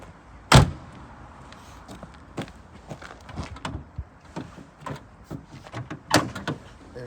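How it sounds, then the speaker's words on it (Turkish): Hood of an old Alfa Romeo rally car being opened, starting with a loud sharp latch clack, then scattered lighter metallic clicks and knocks, ending with another firm clunk near the close. "Kaputumuzu buradan açıyorum bir dakika."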